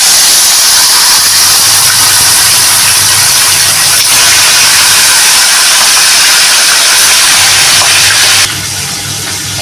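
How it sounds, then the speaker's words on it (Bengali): Pieces of a large four-kilo rohu fish fry in hot, vigorously bubbling oil, a loud and continuous close-up sizzle with a low rumble underneath that eases slightly at the very end. "মাছগুলো এবার আমি লাল লাল করে ভেজে নেব"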